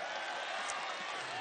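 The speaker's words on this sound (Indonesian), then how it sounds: "Tepuk tangan buat semuanya." Crowd applause at a NasDem political rally in Bandung, West Java: a dense, even wash of clapping and crowd noise, heard from a distance, that holds steady for the whole moment.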